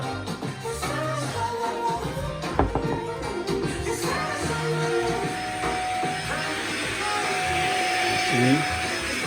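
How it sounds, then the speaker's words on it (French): A vacuum cleaner runs steadily while an apartment is cleaned into the corners, its loud continuous whine and whoosh close by with a few bumps, and people talk over it throughout. "Voilà, il est en train d'aspirer."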